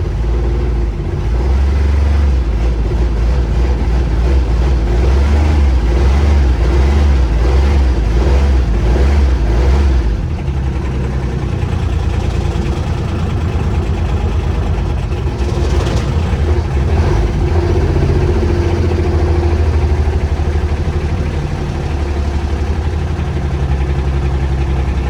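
A cold diesel engine on a UTV truck runs unevenly after a hard start, a steady loud rumble that roughens and surges at points through the whole stretch, with no voices.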